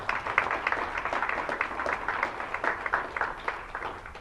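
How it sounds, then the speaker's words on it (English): Audience applauding panelists at the close of a HungerU panel event at Colorado State University, a steady patter of many hands clapping at moderate volume, continuous for several seconds. "Give them a round of applause."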